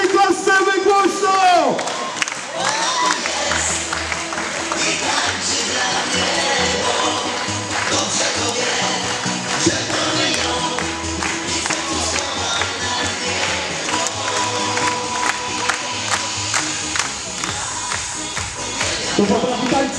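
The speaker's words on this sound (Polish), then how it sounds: "I wszyscy klaszczemy głośno!" Arena crowd at a Delecta Bydgoszcz volleyball show clapping and cheering loudly, a dense rhythmic roar of claps and shouts with music and an announcer's voice over it, sustained throughout.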